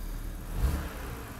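A BMW N52 engine, just fitted with a new valve cover, runs close by and gives one short rev that swells and falls back to a steady run, with no talk.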